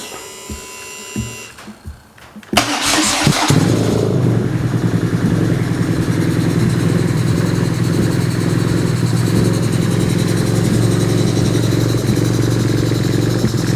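Custom BMW scrambler motorcycle, quiet handling noises first, then the engine cranks and fires, settling into a loud, steady, close running rumble for the rest.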